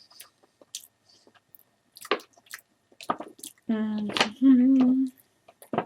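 Someone eating lasagna with close, wet chewing and squishy mouth sounds between pauses, plus a few drawn-out humming 'mmm' sounds of enjoyment.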